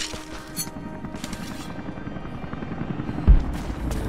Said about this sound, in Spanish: Último helicóptero saliendo